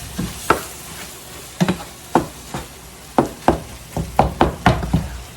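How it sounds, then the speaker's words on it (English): Hamburger meat scrambles in a pan on a home stove for spaghetti, with a faint steady sizzle broken by sharp, irregular knocks and scrapes of a utensil, growing busier toward the end. "I'm sure a lot of y'all should know how to scramble up some hamburger meat, right?"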